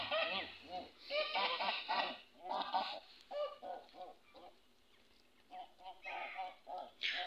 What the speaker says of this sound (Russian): Вот мои гуси. Это родительское стадо.